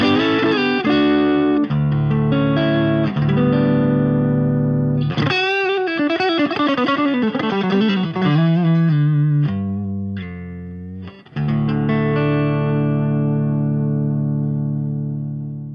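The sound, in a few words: dry electric guitar through two amps, no chorus pedal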